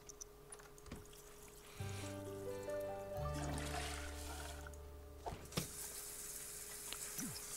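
A shower runs in The Sims 4, a faint trickling spray of water sitting under game music with sustained tones and chords, soft and continuous throughout.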